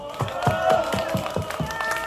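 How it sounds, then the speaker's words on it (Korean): An audience at a political rally claps in a brisk, even rhythm, about four claps a second, loud and near, with tonal background sound and murmurs underneath. "그분들에게 뜨거운 박수로 응원해 주시기 바랍니다"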